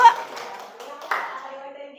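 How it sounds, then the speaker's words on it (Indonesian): Applause for a student group in a classroom, a short burst of clapping from many hands heard close and moderately loud across two seconds, with voices mixed in. "Beri tepuk tangan untuk kelompok 3."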